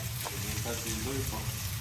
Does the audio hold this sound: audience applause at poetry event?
no